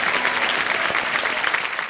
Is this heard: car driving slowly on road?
no